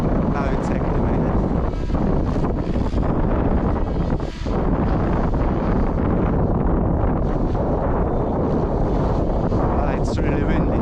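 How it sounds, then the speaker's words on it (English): Strong wind pounds the microphone outdoors during a test of a flybarless helicopter stabilisation system, a constant loud roaring rumble that barely lets up for the whole stretch. "It's really windy."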